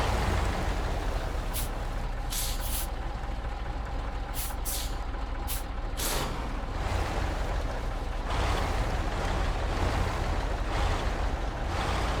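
A heavy truck in the game Snowrunner rumbles steadily as it is parked, its engine a constant low drone broken by several short hissing air-brake releases.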